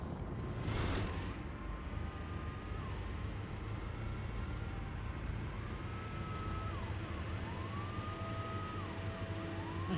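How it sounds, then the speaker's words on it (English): Police car sirens wailing at a distance, rising and falling tones sweeping faintly over steady low traffic rumble, with a brief burst of noise near the start. "I hear sirens."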